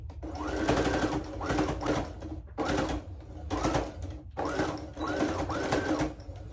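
A sewing machine stitches back and forth to reinforce the elastic on a pleated fabric face mask, with five rapid mechanical bursts separated by short pauses.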